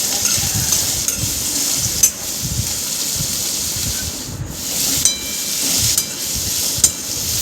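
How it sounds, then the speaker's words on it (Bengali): Potatoes fry with green chillies and cumin in oil for suji upma, a spatula scraping and stirring across the pan in repeated rubbing strokes over a soft, steady sizzle, close up. "দেন এর সাথে অ্যাড করা হলো আলুগুলোকে ভালোভাবে ভেজে নেওয়া হচ্ছে।"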